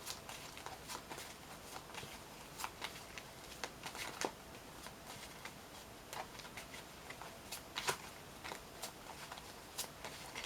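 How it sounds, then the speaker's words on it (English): Tarot cards shuffle continuously by hand, a soft steady riffle with irregular light taps and flicks over a low background hiss, close and fairly quiet. "I always shuffle these as long as I need to"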